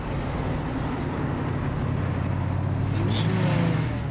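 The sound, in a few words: high-performance Ford Mustang car engine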